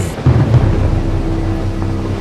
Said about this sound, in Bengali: বাইরে তুমুল ঝড় বৃষ্টি হচ্ছে